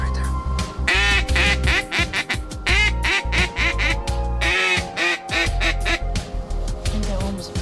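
Loud, raspy duck quacks come in rapid bursts, close by during a duck hunt, while people talk quietly in between.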